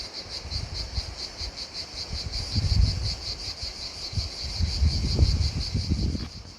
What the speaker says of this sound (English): What you just heard in the last clip was a bug or an insect called cicada